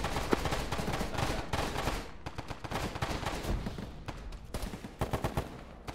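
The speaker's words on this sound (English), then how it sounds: "there's a lot of firing over here" Dense, continuous gunfire from a military shooter game (Arma), with overlapping rifle and machine-gun bursts crackling steadily across the whole stretch, close and loud with no voices.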